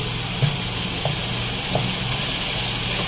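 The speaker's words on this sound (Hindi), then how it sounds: "थोड़ा सा पानी डाल के आपको इसको भूनना है।" Masala for a matar aloo curry fries with a little water in the pan, giving a steady, close sizzling hiss. A few faint taps of stirring sound under the sizzle, and no one speaks.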